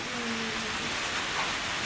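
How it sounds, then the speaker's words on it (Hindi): Rain pours down at an outdoor Independence Day public gathering in Zaidpur, Barabanki, a dense, fairly loud hiss filling the whole moment, with a faint tonal hum briefly under it and no speech. "ये बरसात है"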